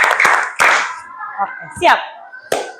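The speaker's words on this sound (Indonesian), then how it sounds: "Tepuk semangat" A group of children in a classroom claps hands as an ice-breaking game during a fourth-grade lesson, with a few sharp, separate claps spaced between an adult's talk.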